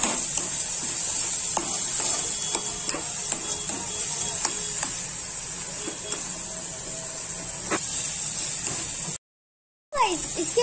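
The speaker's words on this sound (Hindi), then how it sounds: "इसको अच्छे से मिक्स कर दें।" Onion and tomato sizzle softly in a pan while a utensil stirs, giving scattered light scrapes and clicks over a steady frying hiss, with a brief cut of silence near the end.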